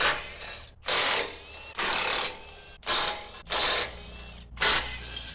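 A ratchet works 14mm bracket bolts loose on a Toyota 4Runner skid plate mount, with six close bursts of rapid clicking separated by short pauses.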